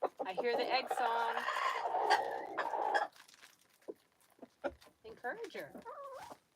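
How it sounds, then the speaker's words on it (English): A hen sings the egg song on a cold morning in Maine, giving a run of loud, rising clucks close by. A person then talks, and brief bursts of clucking return near the end. "I hear the egg song."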